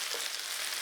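Bits of onion and sliced garlic fry in a pan alongside tofu, giving a soft, even, close hiss that runs unbroken through a brief moment with no talk.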